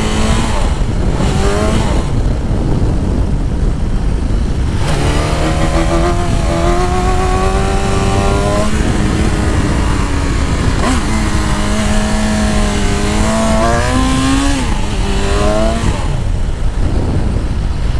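A motorcycle engine revs repeatedly up and down, loud and close, its rising and falling whine holding steady through the whole stretch with no talk over it.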